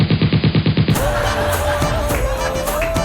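A gunfire sound effect on a Telugu TV comedy stage show, a rapid burst of about eight evenly spaced shots in under a second, followed by a crowd and music continuing loudly.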